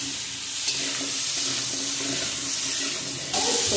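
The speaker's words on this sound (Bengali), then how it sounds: "সবজিটা কষাচ্ছি।" Fresh vegetables stir-frying in a pan, a loud steady sizzle and hiss filling the whole clip, with brief stirring scrapes and a slight surge near the end.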